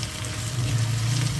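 Onion frying in oil and ghee in a pan for prawn biryani, a steady, close hiss and sizzle holding at an even level without a break.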